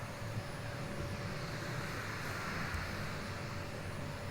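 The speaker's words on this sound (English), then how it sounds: "Vacuuming is not terribly exciting, but it does make a difference" A vacuum hums steadily and evenly up close as it lifts loose glue particles off a painting's canvas, with no talking.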